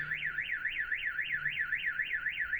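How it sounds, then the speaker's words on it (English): A car alarm siren wails in a steady, rising-and-falling sweep, about eight cycles repeating evenly, loud and alone with faint background noise. "Each different frickin' part of the alarm is a different frickin' verse."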